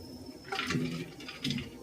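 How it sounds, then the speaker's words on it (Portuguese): Portions of blanched cabbage are dropped into a bowl of ice water, giving two soft splashing, sloshing bursts close by with no talking. "a gente então vai colocar essas porções de repolho na vasilha com água gelada"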